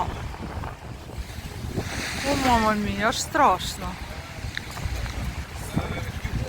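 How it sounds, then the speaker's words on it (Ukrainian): Strong storm wind and sea waves on the Odesa shore in December, a continuous roaring wash of surf and gusts with wind buffeting the microphone, heard under a person talking excitedly. "Боже, друзі, такий сильний е, цей вітер шторм."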